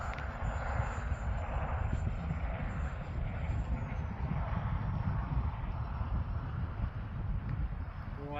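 An FMS F-16 64mm electric ducted-fan RC jet flying overhead, a continuous loud broadband rushing whine with a faint high tone, steady throughout and heard alone without voices.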